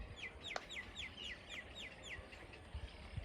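Ash-coloured herons at Nelapattu bird sanctuary give a rapid series of repeated, slurred calls, about eight in quick succession, moderately loud over a low background hum of other birds.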